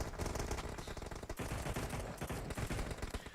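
Rapid, dense automatic gunfire rattles almost nonstop through a competitive esports shooter match, sustained bursts stacking loudly over one another with only brief dips.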